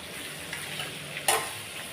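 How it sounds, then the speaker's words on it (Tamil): Bottle gourd pieces sizzle steadily in hot oil, a soft continuous frying hiss with a brief louder burst as the pan is stirred. "இப்போ இந்த எண்ணெயிலே ஒரு ரெண்டு நிமிஷத்துக்கு நல்லா வதக்கி விட்டுறலாம்"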